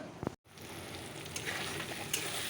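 Fish curry with ridge gourd, potato and spices cooking in a pan at home: a steady, close sizzling and frying hiss that runs throughout, with a brief dropout near the start.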